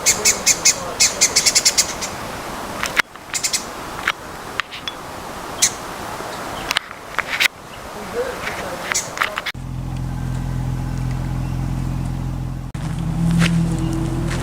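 Mixed bird calls of a lyrebird mimicking other species near the Jenolan Caves, bright chirps and whistles repeating through the first half, then a steady low engine hum takes over with a few faint calls on top.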